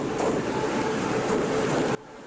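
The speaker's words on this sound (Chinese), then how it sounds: "火车入站" A Taiwan Railways train pulling into a station, heard as a loud, steady rumble of rolling cars and wheels that cuts off abruptly near the end.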